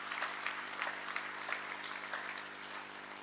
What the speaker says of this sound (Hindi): आप सभी अपने लिए ही जोरदार तालियों के साथ अपना ही स्वागत करेंगे।